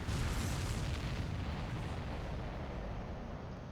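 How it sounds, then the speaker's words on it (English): A loud, sustained video-game explosion, a broadband roaring boom that fades slowly over several seconds with no voices. "Did you see that explosion?"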